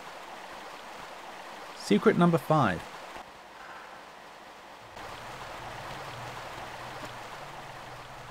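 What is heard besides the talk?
waterfall in Tomb Raider video game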